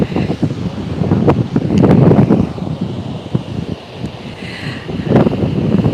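Strong wind buffets the microphone outdoors in Tel Aviv near sunset, a steady roaring rush with gusts swelling and easing over several seconds, loud and close, with no talking.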